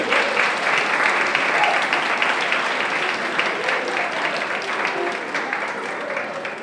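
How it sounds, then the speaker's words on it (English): Sustained audience applause at a fashion show, dense and steady clapping that fills the room for several seconds before tapering slightly at the end. "Let's have a round of applause"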